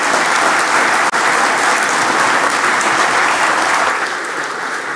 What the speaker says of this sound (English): a round of applause for Susan